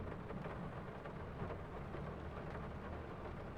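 Steady rain hisses across the fields of a Farming Simulator 22 game, with low rumbles of thunder rolling underneath, a constant, fairly quiet wash of storm noise with no voices.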